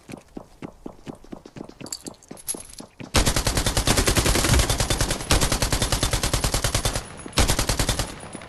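Gunfire in the Scarfall 2.0 video game: a stretch of single shots first, then long bursts of rapid automatic fire with short breaks. The shots are loud and close, with no talking.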